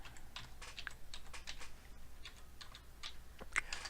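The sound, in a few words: typing on a computer keyboard while logging in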